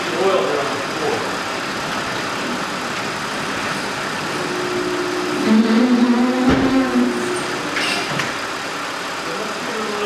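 A 2010 Audi A6 with a rod knock and an oil leak idles steadily, then is revved briefly before settling back. A person talks over the engine's low, rough running.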